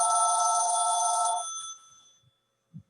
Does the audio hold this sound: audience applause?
no